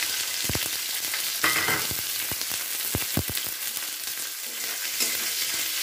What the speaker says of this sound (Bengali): হালকা ভাজা ভাজা করে নিচ্ছি